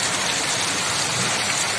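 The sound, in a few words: rain falling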